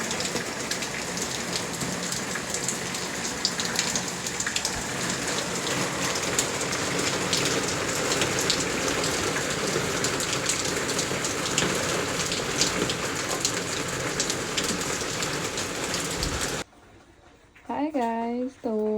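Steady heavy rain pours down, a dense continuous hiss of drops on surfaces lasting most of the stretch, then it cuts off abruptly to a brief quieter moment with a voice.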